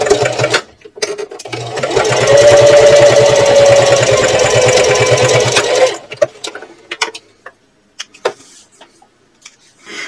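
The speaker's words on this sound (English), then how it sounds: "Now I'm going to sew using a 1/8 inch seam allowance" A sewing machine sews a 1/8 inch seam to close off a card slot on a fabric purse, a close, steady burst of stitching lasting a few seconds between quieter handling sounds and pauses.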